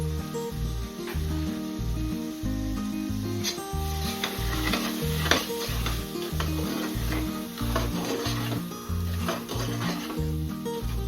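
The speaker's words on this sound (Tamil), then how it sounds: "இப்போ பிரியாணி மசாலா ஆட் பண்ணுறேன்." Biryani masala stirred into a pan of prawn biryani base, with steady sizzling and rhythmic scraping stir strokes repeating close up throughout, and a strong pulsing low tone running underneath.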